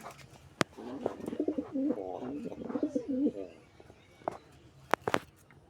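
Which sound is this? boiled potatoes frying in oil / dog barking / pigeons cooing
pigeons cooing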